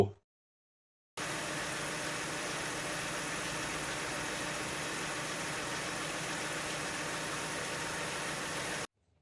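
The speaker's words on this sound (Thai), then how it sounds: "เครื่องยนต์เดินนิ่งเรียบเลยนะครับ" After a second of silence, the 2.5-litre engine of a 1999 Nissan Cefiro A32 automatic idles smoothly with a steady, even hum that holds unchanged until it cuts off.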